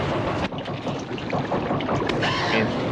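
A full-size amphibious duck boat moving across water in a film scene, with a steady broadband wash of water and wind running loud and unbroken throughout.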